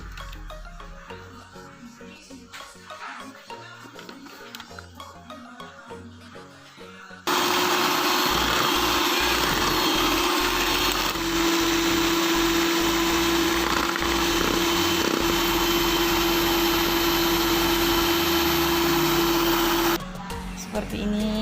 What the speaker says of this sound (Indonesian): Lalu ini akan kita mixer hingga benar-benar kental dan mengembang.